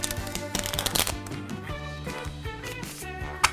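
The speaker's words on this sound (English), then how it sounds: "I'm gonna shuffle up the cards," A deck of playing cards is shuffled by hand at close range, with rapid riffling flutters and soft slaps in a quick, uneven rhythm.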